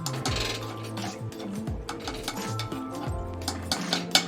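A spoon stirs a rajma mixture with salt in a cooking pot, scraping the metal in repeated close strokes with a few sharper clinks, with no talk over it.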